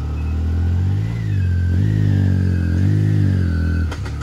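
Yamaha YXZ side-by-side climbing a rocky mountain trail at Windrock's Devil's Elbow, its engine revving loud and close in sustained surges that rise and dip, with a brief clunk at the end.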